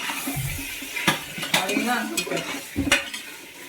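Chicken biryani masala is stirred in a pot, producing close scraping and clinking of a metal spoon against the vessel over a soft sizzle, with several distinct strokes in quick succession.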